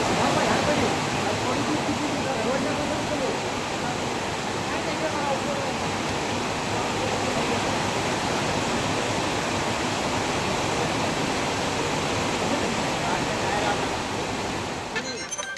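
Flooded stream rushing after heavy rain, a steady broad roar of water running without pause, loud and close throughout.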